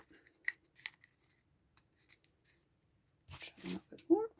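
Scissors snip around the rim of a paper plate in a few short, quiet cuts spread out over time, followed by a louder burst of rustling and handling near the end.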